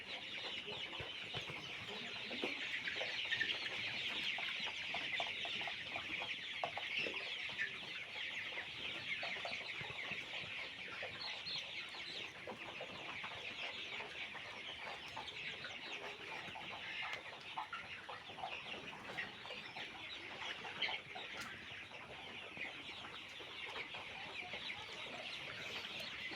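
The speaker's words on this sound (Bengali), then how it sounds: "এই আমার কালাবাট মুরগির বাচ্চা আজকে 26 দিন রানিং" Kalabat chicken chicks, 26 days old, cluck and cheep continuously on a farm, a dense, steady chorus of many small birds at moderate distance with no talking.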